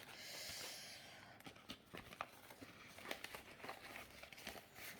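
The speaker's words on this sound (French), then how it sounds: "je mets donc les 3 billets de 5 dans mon enveloppe de billets de 5" Paper banknotes, three 5-euro bills, slid into a paper budget envelope up close, giving a series of soft crinkling and rustling handling sounds with short crisp rattles, no talk over them.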